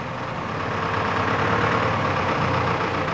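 A revving engine drones loudly and steadily up close, a thick continuous roar with no pauses.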